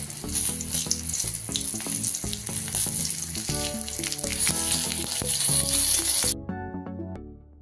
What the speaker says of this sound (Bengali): এবার সেই তেলের মধ্যেই ফোড়নের জন্য দেব কাঁচা লঙ্কা, তেজপাতা, 5 ফোড়ন ও শুকনো লঙ্কা।